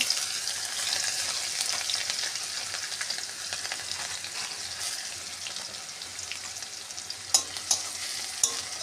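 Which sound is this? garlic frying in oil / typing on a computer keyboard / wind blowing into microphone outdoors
garlic frying in oil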